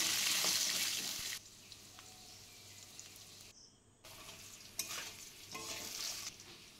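Potatoes fry in oil in a kadai while being stirred, a loud close sizzle that drops back and returns with scraping stir strokes and a short pause, no talking.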